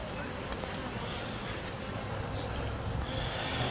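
Bees from an open beehive during an inspection make a steady, faint buzzing drone that holds evenly throughout with no pauses.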